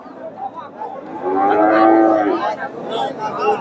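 A Friesian bull at a busy cattle market lets out a loud, drawn-out moo near the middle, with faint crowd chatter and other livestock sounds around it.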